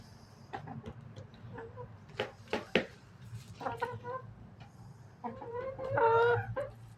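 Backyard chickens cluck and squawk inside a hen house, a scatter of close, irregular calls with a longer rising squawk near the end over a low background hum.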